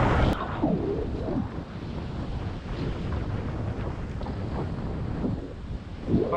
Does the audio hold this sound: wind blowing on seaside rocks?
yes